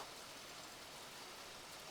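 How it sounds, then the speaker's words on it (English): Rain falling during a stormy autumn night, a soft, even hiss of steady rainfall, faint and continuous with no voices. "The storm outside seemed to increase for a while."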